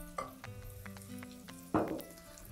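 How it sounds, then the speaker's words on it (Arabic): Red lentils frying and being stirred in a pot for a red lentil soup: a soft sizzle runs underneath, broken by a few sharp utensil clinks and two scraping stirs against the pot. "نخلط شويه على العدس تاعي يتقلى كيما قلت لكم حوالي زوج دقائق"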